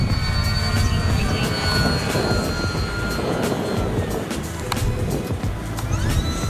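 An FMS Super Cub 1300mm RC plane flying, its electric motor a loud continuous buzzing drone with wind rumble and shifting pitch as it passes.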